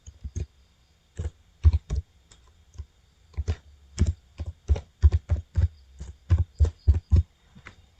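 Someone types an email address on a laptop keyboard, with close, crisp key clicks coming in irregular bursts and short pauses, and no speech.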